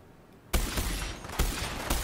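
Gunfire in Borderlands 3 bursts in sharply after a quiet start, followed by sustained loud crackling shots with two more sharp blasts punctuating the rapid volley near the listener.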